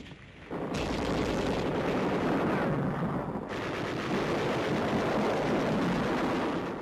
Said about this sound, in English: machine guns cover the withdrawal of 8th Army troops pinned down by enemy fire in the Maujima Valley